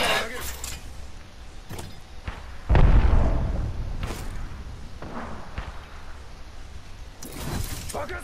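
A sudden loud explosion in a battle royale video game, a heavy low boom with a rumbling tail amid scattered clicks, footsteps and game noise, with a voice speaking over it.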